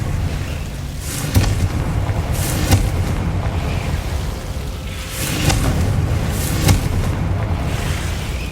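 Confringo explosion spells cast in the Hogwarts Legacy video game, a run of booming blasts and crackling bursts repeating in clusters over a rumbling, busy background.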